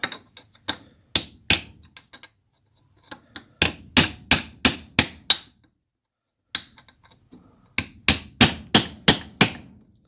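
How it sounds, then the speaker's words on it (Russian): Bursts of quick, ringing taps from a small hammer on a sharp chisel, struck in rapid rhythmic runs separated by short pauses, close and crisp, while working on an Alfa moped engine. "Молоточек поменьше, конечно."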